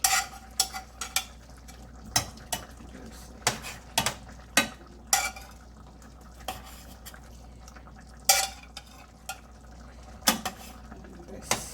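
Salmon pieces simmering in papaya chutney in a pan, with a low steady bubbling bed broken by repeated clinks and scrapes of a utensil against the pan.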